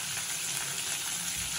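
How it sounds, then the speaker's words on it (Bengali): Potato pieces fry in hot oil for a Bengali fish curry, giving a steady, close, even sizzle with a bubbling crackle and no talk over it. "আলুটা লাল লাল করে ভাজা হচ্ছে"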